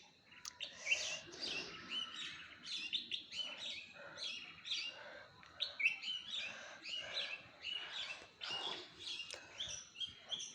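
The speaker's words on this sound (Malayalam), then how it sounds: "ചെറിയ ചെറിയ കിളികളതാ കൊഞ്ചൽ ഇരട്ടത്തലേന്നുണ്ട്" Small birds, including a red-whiskered bulbul, chirping and twittering in quick, repeated bursts of high calls; faint and distant, with no voices.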